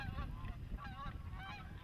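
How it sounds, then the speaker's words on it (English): Geese honking over a lake near wetlands, a continuous overlapping chorus of calls from a flock passing overhead, heard against a steady low rumble of wind. "those geese are already claiming the island, pushing every other bird that lands on the lake off the lake"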